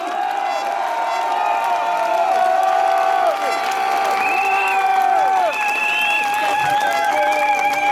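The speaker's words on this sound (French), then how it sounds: "Applaudissons-les." A crowd applauds and cheers during a speech at a public rally, with dense steady clapping, whoops and shouts filling the whole stretch, loud and close.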